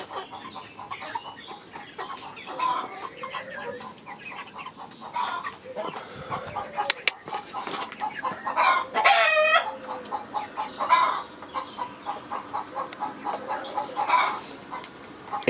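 Flock of ten Alsace hens and six laying hens clucking and murmuring in a coop, with a rooster crowing loudly a few times over the soft, steady chatter.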